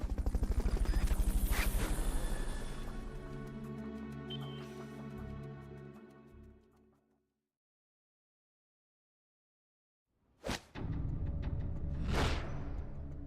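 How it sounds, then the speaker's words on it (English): The Fulton recovery helicopter in Metal Gear Solid Peace Walker gives a loud, droning rotor hum that fades out to silence, then comes back with sharp whooshing bursts. "Fulton recovery helicopter is complete."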